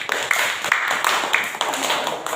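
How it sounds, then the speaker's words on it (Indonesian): A classroom group gives a short burst of applause for a presenting student group, light rapid hand claps overlapping for a couple of seconds at moderate distance. "Kasih aplaus buat kelompok 2"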